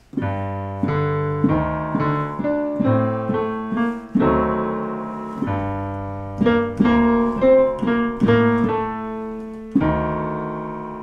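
A piano plays the first phrase of the Black Books TV theme, with chords and single notes struck in a steady rhythm, ringing clearly with sustained resonance.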